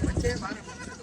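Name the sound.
goat bleating at a livestock market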